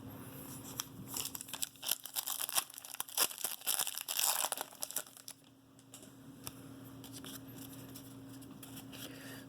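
A NASCAR trading card pack is torn open with crinkly foil tearing and crumpling bursts, close and fairly loud, then quieter rustling handling.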